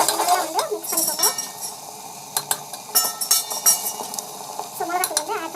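A spoon stirs and scrapes a spice mixture in a metal pan while cooking a simple home recipe, giving repeated clinks and scrapes close up, with a voice talking intermittently over it.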